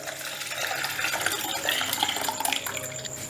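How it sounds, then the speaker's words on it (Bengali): Milk pours into a mixing bowl in a continuous close liquid stream with splashy gurgles, no one talking. "আমি একটা মিক্সিং বোলের মধ্যে দুধটা ট্রান্সফার করে নিচ্ছি"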